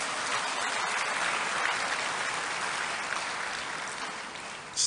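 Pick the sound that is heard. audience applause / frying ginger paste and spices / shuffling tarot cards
audience applause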